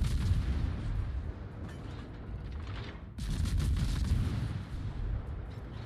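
Naval guns firing in the World of Warships video game, aboard the Worcester, a Tier 10 American light cruiser: heavy booming salvos over a rumbling battle background, with a sharp cut partway through before the firing resumes just as loud.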